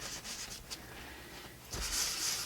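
A credit card rubs across wet paint on a mixed-media surface to raise texture, making a soft, steady scraping hiss up close that grows brighter toward the end.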